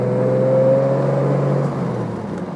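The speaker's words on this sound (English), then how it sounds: "We're here motoring along in first, and it's a very good-tempered little car." A 1972 Triumph TR6 engine and exhaust pulling along in first gear from inside the car, a steady low droning hum with a smooth tone that eases back slightly toward the end.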